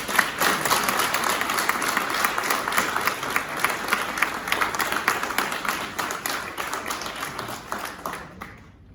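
Audience at a French stage show applauding two performers: dense, sustained crowd clapping, loud and close, gradually tapering off at the end.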